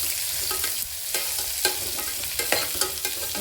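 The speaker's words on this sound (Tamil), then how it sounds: "நல்லா வதக்கி விடுங்க" Three sliced big onions sautéed in a pan, steady frying hiss broken by repeated sharp spatula scrapes at an uneven rhythm, close and fairly loud.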